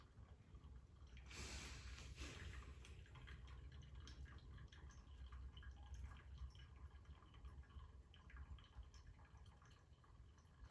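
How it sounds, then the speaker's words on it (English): Coffee drips steadily through a V60 pour-over into a pot, a soft, continuous trickle heard close and faint, with a slightly louder splashing stretch near the start. "Just some water dripping into the pot."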